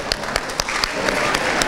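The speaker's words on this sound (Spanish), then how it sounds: "un gran aplauso." An audience at the León fair breaks into applause, a dense wash of clapping with a few sharper claps standing out, fairly close and steady throughout, with some talk mixed in.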